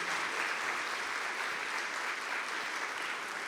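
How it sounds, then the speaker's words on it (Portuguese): A church congregation applauds steadily, a dense even wash of clapping heard from a distance, with no voices over it. "Uma salva de palmas para vocês."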